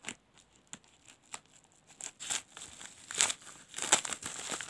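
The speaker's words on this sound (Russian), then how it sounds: "Начнем вскрывать пакетики." Crinkly plastic AliExpress parcel packets rustle and tear in irregular bursts, close by, growing louder and busier toward the end.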